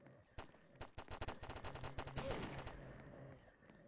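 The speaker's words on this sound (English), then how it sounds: "I'm gonna use the UZI." Rapid bursts of Uzi submachine-gun fire in a Roblox zombie minigame, a dense run of sharp repeated shots clustered in the middle, fairly quiet overall.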